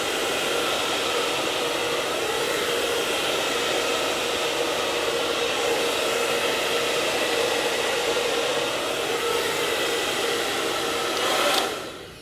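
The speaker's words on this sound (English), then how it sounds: "you want to use a hair dryer to kind of blow it back to the way that you're going" A hair dryer blows steadily and loudly at close range while drying and styling curly hair for an undercut, a constant rushing whoosh that cuts off abruptly near the end.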